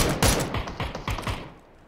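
Automatic gunfire in the battle royale game PUBG comes as several rapid, loud bursts of shots packed close together, then tapers off into a quieter tail.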